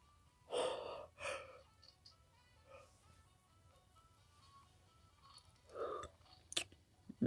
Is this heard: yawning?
yes